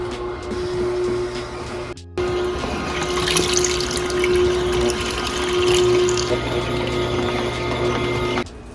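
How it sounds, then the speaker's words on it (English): Electric juicer running on pineapple, orange and cantaloupe, giving a steady, close mechanical whir with a constant hum and grinding, wet churning that stops briefly after two seconds and again near the end. "The juicer just does the work. Drop the top on it"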